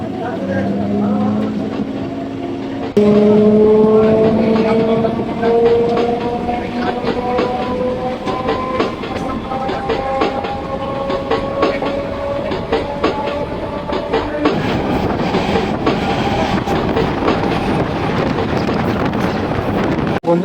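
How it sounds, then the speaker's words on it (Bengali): A passenger train runs on rails at night between Durgapur and Bardhaman as it pulls into Panagarh station, with a loud rumble, clattering wheels and squealing tones that fade into rougher rolling noise. "আমাদের ট্রেন কিন্তু এসে ঢুকছে হচ্ছে পানাগড় স্টেশন"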